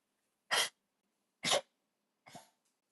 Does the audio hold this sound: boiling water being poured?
no